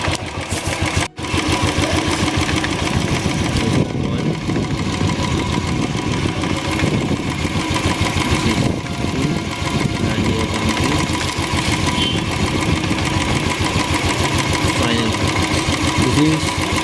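A Royal Enfield Classic 350 engine, warmed up, idles close by with a steady, even thumping that runs throughout, broken only by one brief dropout near the start.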